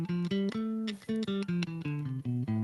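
Bass guitar steps through the A Aeolian natural minor scale, a quick even series of plucked notes moving up and back down, clear and close with no voices.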